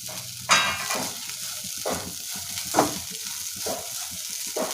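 Chopped snake gourd frying in a pan, a continuous crackling sizzle swelling in several bursts as it is stirred, fairly close with no voices.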